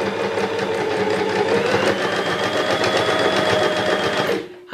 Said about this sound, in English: it's just a cheap sewing machine